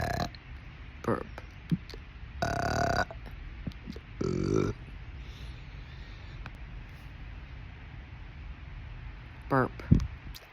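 Several close human burps spaced irregularly, including two long drawn-out belches and a few shorter ones, with quiet room noise between.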